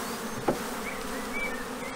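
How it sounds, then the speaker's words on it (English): Honeybees hum in a steady, close buzz, with a brief louder burst as one passes near, continuing without pause. "I'm going to shake off the bees."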